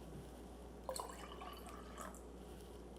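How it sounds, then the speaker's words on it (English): Blue pigment water is poured into lemonade, making a faint liquid trickle and splash that starts abruptly and continues softly for a couple of seconds, alone without talk. "when you pour it into something like lemonade, the anthocyanins change the pH level"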